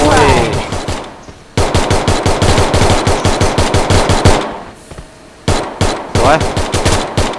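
Rapid automatic gunfire in the mobile battle-royale game Garena Free Fire MAX, loud bursts of close shots in quick rhythm with short pauses between volleys, and no talking over it.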